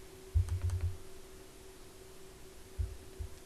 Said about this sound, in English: I'll just type hello world